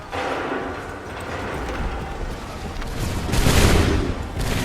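Volleys of musket gunfire from soldiers in the video game Assassin's Creed 3 battle at Lexington and Concord, a rolling crackle of shots building to a louder burst near the end, with distant booms.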